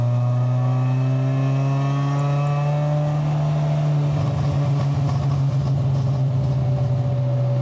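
A tuned Honda Accord engine idles with a steady drone, then revs up; crackling pops from the exhaust spatter through the second half, close and loud.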